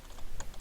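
A few quick key presses on a computer keyboard, one sharper tap standing out like the enter key, heard close and brief with no talking.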